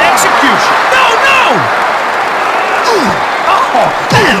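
Wrestling arena crowd in WWF Attitude on Dreamcast, a loud continuous roar of cheering with a commentator's voice over it.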